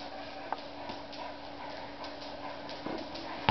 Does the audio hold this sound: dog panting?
yes